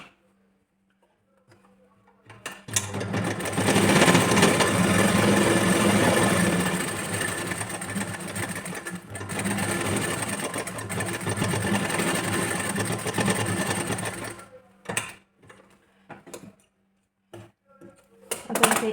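A sewing machine stitches an aari-work blouse in a steady, close whirring run of about twelve seconds, then stops, followed by a few short, quieter bursts of stitching.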